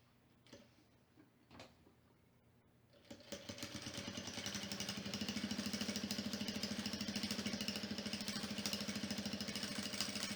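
Sewing machine stitching the lining of a Bible cover, a couple of soft clicks first, then the motor starts and settles into a steady, rapid needle clatter that continues close up to the end.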